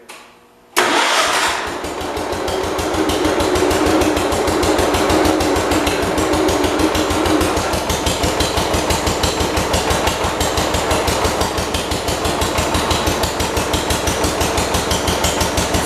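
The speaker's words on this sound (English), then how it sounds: "no choke, no throttle, fires right up" A 1971 140 engine cranks briefly, then catches on a cold start with no choke or throttle and settles into a steady, loud, rhythmic idle that thumps evenly for many seconds, close by with no talking.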